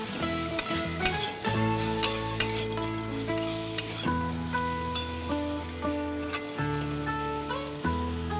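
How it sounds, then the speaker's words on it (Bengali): Red amaranth greens fried with peanuts and lentil dumplings, stirred in a pan, with a soft sizzle under repeated scraping and light clinks, close by, against a steady tonal hum. "আমি শাকটা নাড়াচাড়া করে দিই"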